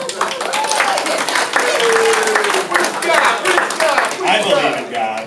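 Comedy club audience clapping and cheering, loud and busy over the full stretch, with voices and laughter mixed in.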